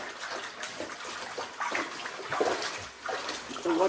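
Water sloshes and splashes as a dress is scrubbed and squeezed by hand, with intermittent swishing bursts at close range.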